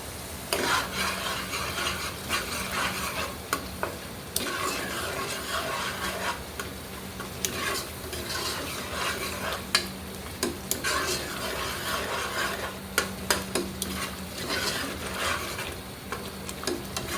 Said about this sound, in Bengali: এটা কিন্তু অনেকক্ষণ ধরে কষিয়ে নিতে হবে